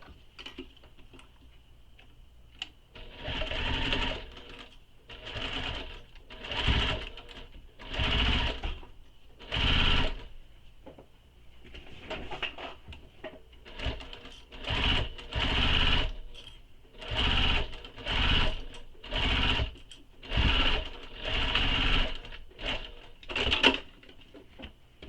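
A sewing machine runs a handbag seam in about a dozen rapid stitching bursts of a second or two each, close and clear, separated by brief pauses.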